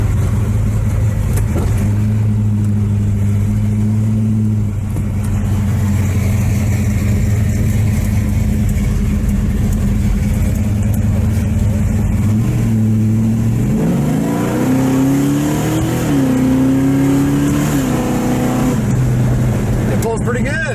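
A big long-wheelbase car cruises and accelerates, its steady mid-pitched engine drone rising through revs partway through, with people talking over it throughout.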